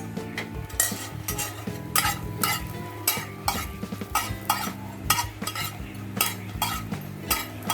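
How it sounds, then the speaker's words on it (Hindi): Urad dal bori frying in a pan for a rohu fish curry, with repeated stirring scrapes and clinks of utensil against metal over a steady sizzle, close and fairly quiet. "पहले हम ये जो बोड़ी है ये हम फ्राई करके लेते हैं।"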